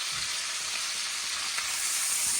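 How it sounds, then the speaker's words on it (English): Pork chops sizzle as they go into a hot pan, making a steady bright hiss and crackle of frying that runs the whole time, close and fairly quiet, with no voices. "we're going to move our chops right into this pan"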